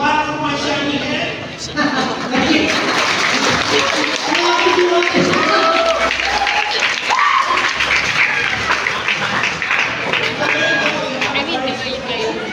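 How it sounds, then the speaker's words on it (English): Steady crowd applause at a gaming seminar, mixed with chatter and cheering voices, continuing loud and dense for over twelve seconds. "Clap for my shiny head."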